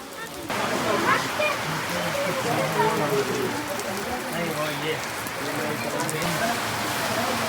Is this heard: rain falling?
yes